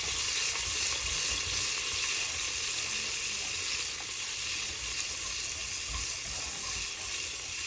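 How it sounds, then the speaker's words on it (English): Garlic frying in a pan for curry gives a steady, close sizzle that stays even and fairly loud throughout, with no speech over it. "This is going to cook our garlic."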